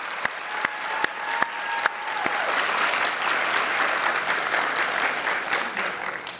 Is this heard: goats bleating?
no